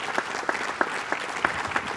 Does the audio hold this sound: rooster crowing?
no